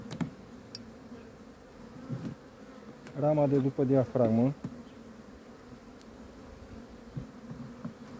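Honeybees at a hive frame, a steady buzzing hum that swells into a loud, close drone for about a second and a half, with someone speaking quietly around it.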